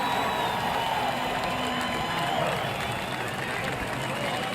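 Spectators at a NASCAR truck race at Texas Motor Speedway applaud and cheer, a steady, broad roar of crowd noise heard from a distance with faint tonal announcer-like sounds mixed in.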